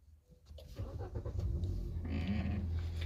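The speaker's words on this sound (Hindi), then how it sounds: "यानी इंजन को स्टार्ट ही कर लेते हैं हम पहले।" A Hyundai i20 engine cranks briefly, catches and settles into a steady, low, close idle hum with no voices.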